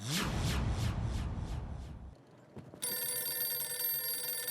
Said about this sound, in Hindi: ये भिड़े बार बार क्यों फोन कर रहा है?